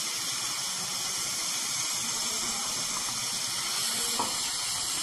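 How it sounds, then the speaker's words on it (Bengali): Water pours steadily into a pan of spice masala made with cumin powder, turmeric and Kashmiri chilli powder, a continuous close rushing and gushing that holds the same level throughout without pause. "জল অ্যাড করছি, কারণ মশলাটা একটু কষতে হবে তো"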